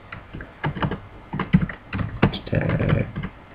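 Fingers typing on a computer keyboard during Java programming, quick uneven clatter of close keystrokes with a brief steadier burst near the end.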